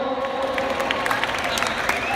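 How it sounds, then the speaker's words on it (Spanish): A crowd at the Getxo comic and manga convention in 2016 applauds and cheers, a continuous wash of claps with scattered louder hand claps, while a voice talks over it. "Un fuerte aplauso, por favor."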